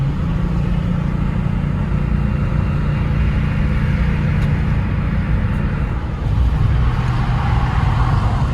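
A $225 auction car with a faulty transmission revs while standing still, a loud steady engine drone and low rumble holding for the whole stretch with a slight dip and swell near the end.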